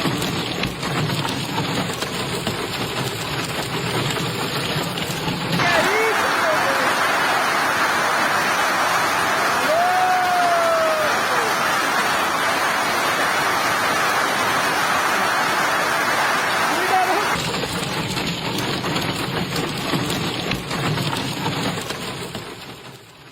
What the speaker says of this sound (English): large hailstones began falling with alarming force, pounding the ground, rooftops, and vehicles